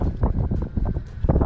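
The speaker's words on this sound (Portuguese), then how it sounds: "Talvez vai estar com barulho de vento agora" Gusty wind buffets the microphone outdoors on a farm while a tractor with a seed drill is refilled with wheat and ammonia, a loud rumbling, flapping roar that surges in rapid pulses.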